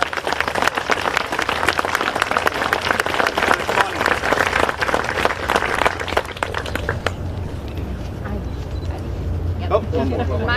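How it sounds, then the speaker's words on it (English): Applause from an audience at a Fort Sill change of command ceremony for the 319th Field Artillery Regiment, a loud, steady burst of many clapping hands that tapers off after about seven seconds into murmuring crowd noise. "How about a round of applause?"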